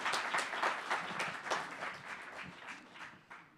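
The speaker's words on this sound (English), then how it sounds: "can I also get a round of applause for our wonderful timekeepers who kept us on track tonight?" Audience applause at the close of an evening debate program, a dense wash of many hands clapping that holds steady and then thins out and fades toward the end.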